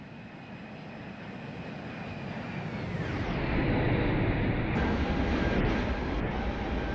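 An Airbus A321neo (ToLiss A321) in a flight simulator doing a low flyby, a broad jet engine roar that swells louder as it passes, with a distant high whine, no talk.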